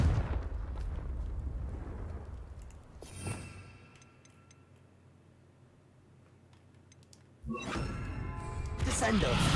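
Confringo spell blasts in Hogwarts Legacy: a loud burst of explosive noise opens, a sharp crack follows near three seconds, then a quieter lull before another heavy, sustained eruption of blasts builds toward the end.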